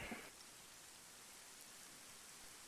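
Acid rain falls steadily on an alien planet in a military game, a faint, even hiss of rainfall that continues without a break and with no voices.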